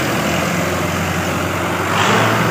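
A 1987 Massey Ferguson 240 tractor engine runs steadily nearby with a low, even diesel drone, loud and continuous, swelling slightly near the end, with no talk.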